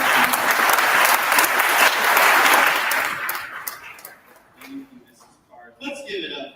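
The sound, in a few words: audience applause welcoming a speaker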